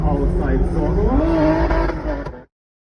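A white BMW E46 drift car drives at a street car fest, the engine revving hard with rising and falling pitch and tyre noise, loud and near, with a voice speaking over it, then cutting off abruptly.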